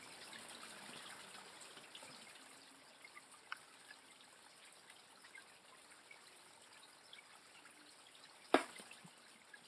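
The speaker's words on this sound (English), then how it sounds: "And then we run a hose." Seawater runs from a hose into a barrel at a sea salt farm in Sugarloaf Key, a faint, steady trickle and gush with a single sharp knock near the end and no talking.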